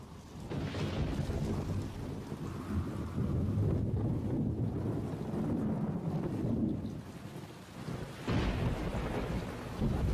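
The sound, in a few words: thunderstorm with rain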